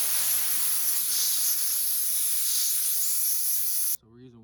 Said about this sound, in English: we want to blow this off with an air compressor and get all the gas off of it